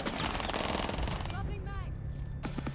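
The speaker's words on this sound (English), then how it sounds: "what a long angle with the SMG to finish it off from Seal" Rapid SMG bursts in an online shooter esports match, dense loud rattling fire at first, then scattered shots and tones as the kill lands, with a caster talking over it.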